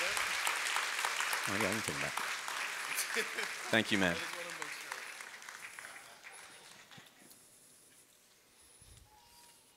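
A small audience claps briefly for a volunteer on stage, the applause fading out as someone speaks over it and thanks someone.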